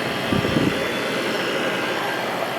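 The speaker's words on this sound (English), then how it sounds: "So it's plugged in, the exhaust fan is running." Exhaust fan of a reef tank chiller whirring steadily, a close, even broadband hum with a brief low thump near the start, heard alone without voices.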